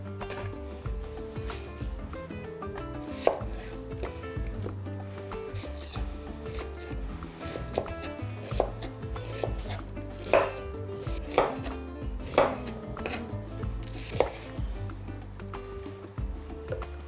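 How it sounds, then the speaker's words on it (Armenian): Two onions being chopped into thin slices, a run of close knife taps on a cutting board at an irregular rhythm with soft rubbing between strokes. "2 գլուխ սոխ կտրատում ենք փետրաձև"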